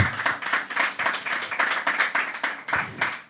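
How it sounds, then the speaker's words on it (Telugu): A church congregation clapping loudly in quick, steady rhythmic beats, close and fairly dense, lasting a few seconds without speech. "గట్టిగా చప్పట్లు కొట్టు, దేవుని గణపరచు."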